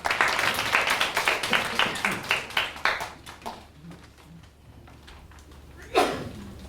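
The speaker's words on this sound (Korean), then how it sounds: "박수 부탁드리겠습니다" Audience applause at a public forum on Jeonju cultural city regeneration, a burst of clapping for a few seconds that fades out, followed by a short quiet stretch and a single louder knock or thump near the end.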